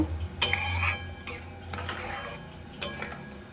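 Okra being stirred in a pot with a little mustard oil, giving a few sharp metallic utensil scrapes and clinks against the pot, close up and without talk.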